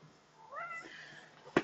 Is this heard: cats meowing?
yes